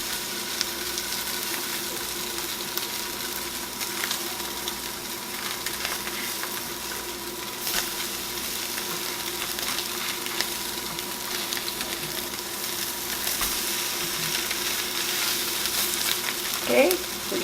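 Canned salmon patties frying in butter in a pan make a steady, even sizzle with faint crackles, close and moderately loud throughout with no talking.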